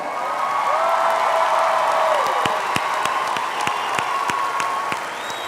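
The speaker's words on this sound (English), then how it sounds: "Let's give our students, the graduates of Martin High School, a big round of applause." Sustained crowd applause for graduating seniors at the Martin High School class of 2026 commencement ceremony, a dense steady wash of clapping filling a large venue with a few sharper claps standing out.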